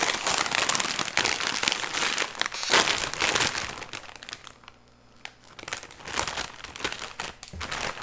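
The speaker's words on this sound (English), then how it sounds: "let's crack open this bag of Doritos" A crinkly bag of Doritos chips is torn open close up, with loud crumpling and crackling bursts, a brief lull, then more rustling.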